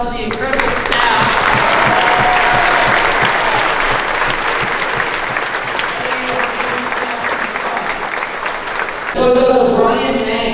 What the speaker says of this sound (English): if I could just give one round of applause to the incredible staff